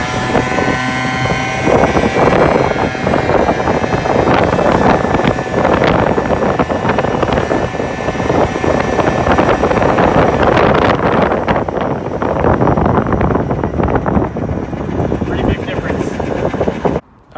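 A Genuine Buddy 50 scooter fitted with a 70cc kit and 7-gram Dr. Pulley variator sliders out on a ride, its engine buried in loud, constant wind rush on the microphone, fading slightly near the end.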